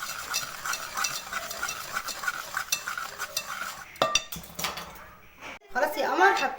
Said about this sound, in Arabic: وبالمضرب كده وايه، دعكنا الزيت بالسكر كويس